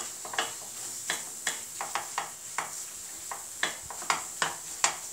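A spoon stirs and scrapes green peas halwa in a pan with ghee, making about a dozen close, crisp scrapes in an uneven rhythm over a soft sizzle.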